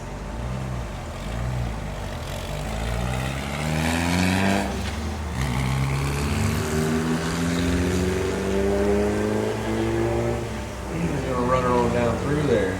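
A mid-engine sports car revs and accelerates hard at a street car show in Bristol, engine pitch climbing through repeated sweeps, loud and close under an announcer's running talk.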